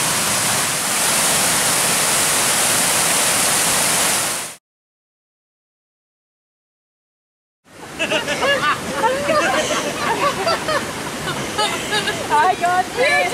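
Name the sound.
waterfall in the woods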